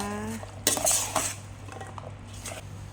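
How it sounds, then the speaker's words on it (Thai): A Thai rice noodle salad with mackerel being tossed in a bowl: a clatter of utensils against the dish, then softer scraping and stirring strokes, close and fairly quiet, with no talk. "คลุกเคล้าให้เข้ากันนะคะ"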